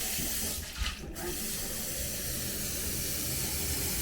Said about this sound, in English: Put some cold water in.